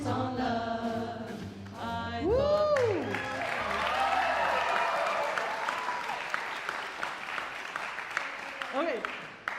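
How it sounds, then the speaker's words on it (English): A sung swing melody ends and a live audience bursts into warm, sustained clapping that fills the room and slowly thins out. "are you smiling because they're clapping or because you felt it?"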